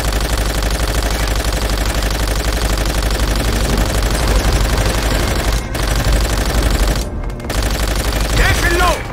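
Rapid machine-gun fire and repeated gunshots from the World War II shooter game Call of Duty: World at War, a dense, loud, continuous barrage with engine drone underneath and brief dropouts.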